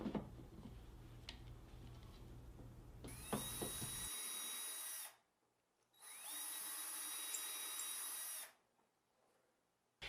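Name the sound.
power drill pre-drilling holes in wood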